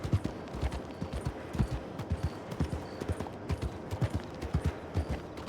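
Horse hooves clip-clop steadily in a video game, a dense, even patter of close hoofbeats continuing throughout with no other sound standing out.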